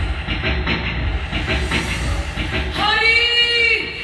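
A train pulling away from a station, with a steady rumble and hiss that give way to a rising metallic wheel squeal near the end. It is loud and close, with no talk.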